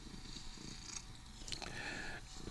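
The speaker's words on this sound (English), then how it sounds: "Purring all over the set" A cat purrs close by while rolling around playing, a low steady rumble running through the whole moment under faint background hiss, with no one speaking.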